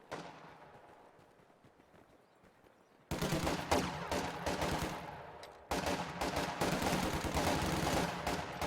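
Sustained MG42 machine gun fire in a strategy video game erupts loud and dense after a quiet stretch, dropping briefly before a second long burst of rapid, rattling shots continues to the end.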